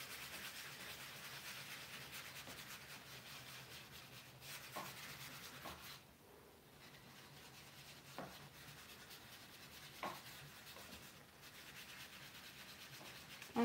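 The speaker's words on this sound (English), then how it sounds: "Natural wax I'm going to apply on the center and all over" Soft, steady rubbing as natural wax is worked by hand onto a faux wood nightstand, a faint continuous scrubbing texture broken by a few light taps and pauses.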